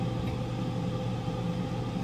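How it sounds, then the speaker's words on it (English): A countertop air fryer running in a home kitchen while cooking lunch, a steady low mechanical hum and whir with no speech. "That's the air fryer with our food"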